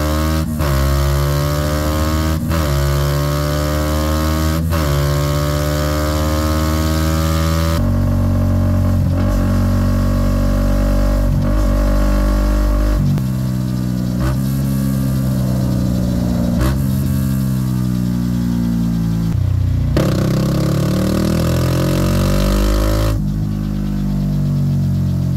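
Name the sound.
motorcycle engine revving at high RPM during tuning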